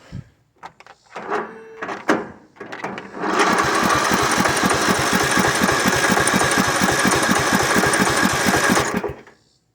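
A lawn mower engine on a jump pack sputters through a few failed cranks, then catches and runs loud and steady with a rapid rhythmic chugging for several seconds before cutting off.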